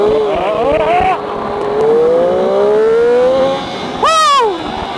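A car launching hard from a standstill on the road to a car show, engine revving loud and close as it climbs through rising pitch, then a quick shift and another sharp surge of acceleration.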